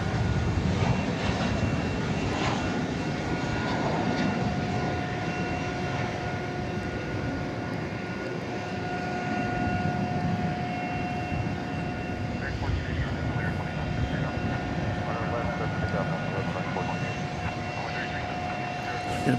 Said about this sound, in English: The flight taking off was going to Salt Lake City.